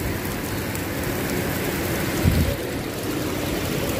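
Steady rain falls in Dubai on a morning, with water pouring from a building drainpipe, a dense even hiss running throughout and a brief heavier splash near the middle.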